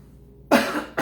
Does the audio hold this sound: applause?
no